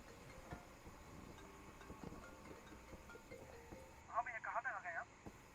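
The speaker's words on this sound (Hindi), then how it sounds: "उसी का फोन है।" A phone rings in a short repeated burst of electronic tones near the end, after steady background noise and talk.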